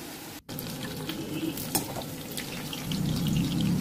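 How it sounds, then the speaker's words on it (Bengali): Potatoes and onions fry with green chili in a pan, giving a steady close sizzle broken by a few stirring scrapes and light clinks, with no talking. "আলু পেঁয়াজ ভাজার মধ্যে আজকে আবার লঙ্কা দিয়েছি"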